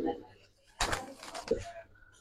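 Silver khaki pigeons cooing softly, with a few low burbling coos after a quiet start, set against a faint background murmur and a brief knock.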